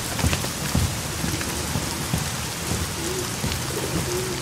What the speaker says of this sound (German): Oh, der Regen ist sehr laut.